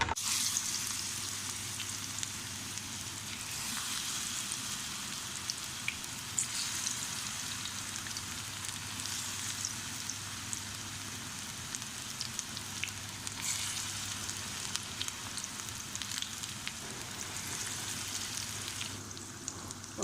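Steady, dense sizzling of pakoras deep frying in hot oil, a continuous crackle with small pops, close and moderately loud, no voices.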